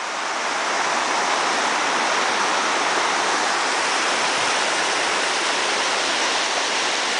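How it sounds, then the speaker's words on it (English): The Renews River in Newfoundland rushing in a steady, loud broadband roar, close by and uninterrupted, with no voices. "Got more water flowing now this time."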